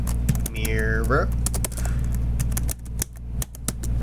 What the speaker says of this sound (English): I like typing. So I'm going to type in mirror,